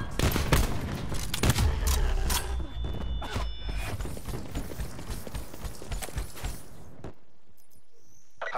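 Enemy sniper rifle fire in a military shooter video game: several sharp, loud cracks early on amid clattering impacts and noise, then fading into quieter scattered sounds and near silence at the end.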